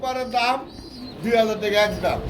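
Pigeons cooing in low, throaty bursts at close range, mixed with a voice talking over them.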